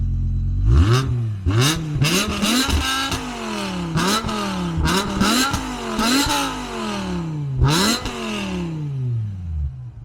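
A BMW E60 M5 with aftermarket race exhausts revs repeatedly while stationary, sharp throttle blips rising and falling in quick succession, loud and close, with crackling pops between the revs.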